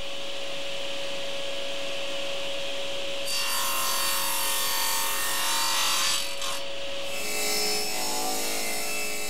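Wood being sawn by hand for a knife's sheath and handle, a steady rubbing rasp of the blade through the timber that starts partway in, close and continuous with brief pauses, no voices.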